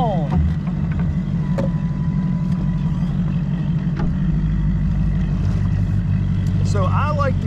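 A new Mercury Pro XS four-stroke outboard motor runs steadily throughout, a continuous low drone with wind buffeting the microphone; a voice speaks briefly near the end.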